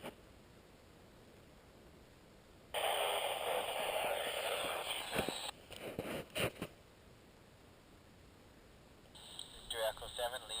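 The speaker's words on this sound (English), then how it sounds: "hear a scratchy signal" Scratchy amateur radio signal heard during a mountaintop portable activation, a hiss of static that jumps to a loud, harsh burst of noise, then choppy crackling fragments and a garbled voice breaking through near the end.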